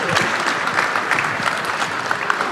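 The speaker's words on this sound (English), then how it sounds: "please, again, one more round of applause for our special guest" An audience claps steadily for special guest Tyler Hansbrough at a live summer event, the applause dense and continuous for its whole length.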